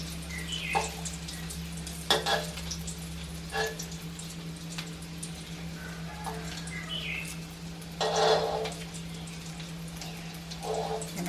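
Egg frying in oil over medium-low heat for a Thai-style omelet, a soft continuous sizzle with scattered pops and crackles over a steady low hum.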